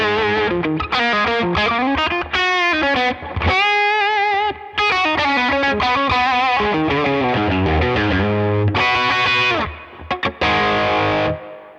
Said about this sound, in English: and then the other Overdrive, let's have a listen to that.